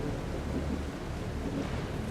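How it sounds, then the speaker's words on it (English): Steady rain and low thunder rumble in the video game The Alters, a dense continuous wash of rainfall with a deep rolling undertone, moderately loud and without voices. "it's raining. It keeps raining"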